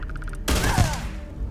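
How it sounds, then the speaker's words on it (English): A burst of rapid gunfire from a firefight in the space game Starfield rings out loud and close, a dense volley with echoing tails, following a short run of electronic beeps. "Follow the sound of the gunfire."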